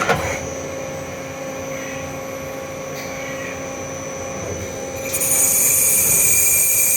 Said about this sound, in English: you should be able to hear the spindle ramp up as we hit that constant surface footage